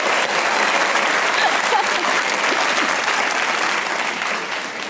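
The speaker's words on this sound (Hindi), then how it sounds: "इनके लिए तालियां होनी चाहिए" Studio audience at a Pakistani comedy talk show applauds a guest actress, a loud, dense burst of clapping that runs steadily for about five seconds before starting to thin.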